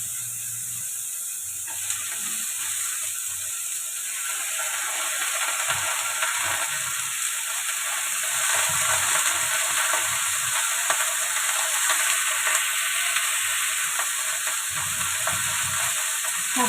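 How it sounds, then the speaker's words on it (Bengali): Washed, chopped pumpkin greens tossed into a hot pan and stirred, giving a steady close sizzle with scraping and rustling stir strokes that grow busier after the first couple of seconds and continue throughout. "এবার আগে থেকে ধুয়ে কেটে রাখা শাকগুলো দিয়ে দেবো।"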